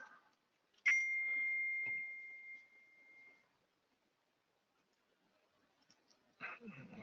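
A single phone notification ding strikes once, a clear ringing tone that sustains and fades over a couple of seconds in a quiet room, with faint movement afterward.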